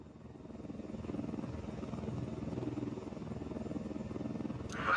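Helicopter in the video game Ghost Recon Wildlands, a steady rotor drone with low rhythmic thumping, loud and close throughout, rising slightly at the end.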